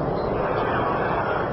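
A Soyuz rocket lifting off, a dense, loud broadband roar filling the whole moment without a break and with no distinct pauses.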